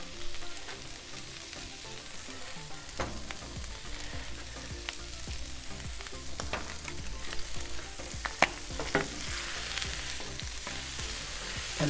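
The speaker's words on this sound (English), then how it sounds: "Sauteing, make sure we get the butter in it because you do not want to burn it." Garlic and onions sautéing in butter on a griddle, a dense continuous sizzle with scattered scraping and stirring clicks, close up and with no voices.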